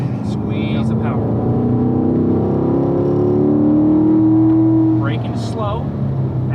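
A race car engine climbs steadily in pitch as it accelerates hard along the track on an instructor lap at the Ron Fellows driving school, loud and close, with bursts of talk over it near the end.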